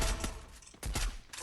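An XM8 rifle fires in the Free Fire game, rapid bursts of gunshots in two quick clusters, loud and close.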